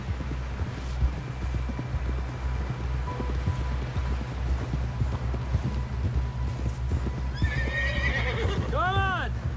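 Horse hooves clip-clop at a steady gallop through Red Dead Redemption 2, with a loud whinny near the end, under game music and voices talking throughout.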